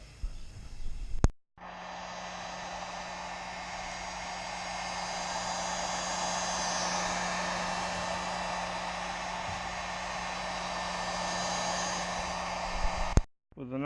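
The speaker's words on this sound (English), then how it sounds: "So I'm going to heat that up real quick with the heat gun and see how easily it pries." Heat gun blowing hot air onto a car badge on a 2017 Subaru WRX, a steady loud whooshing hiss running continuously for about twelve seconds after a click on, then cut off with a click.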